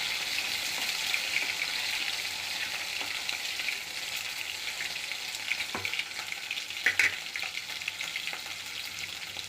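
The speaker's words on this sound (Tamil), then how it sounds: "தக்காளி ரெண்டு மிளகாய் நல்லா வதக்கணும்" Tomatoes and green chillies sautéing with onion in a pan for chicken chettinad kulambu, a soft continuous sizzle with occasional utensil clinks and stirring scrapes.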